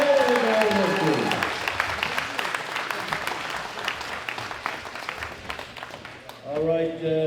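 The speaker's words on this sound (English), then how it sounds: "Please round of applause for all of our lifters." Steady crowd applause at the World Classic Powerlifting Championships women's open 57 kg session, fading gradually, with a voice at the start over the clapping and talking again at the end.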